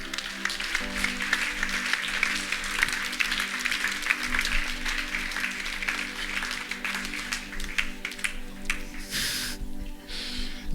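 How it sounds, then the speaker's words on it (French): Church congregation applauds its team during a service, sustained crowd clapping under a steady musical hum, filling most of the stretch before thinning out near the end. "On les applaudit bien fort"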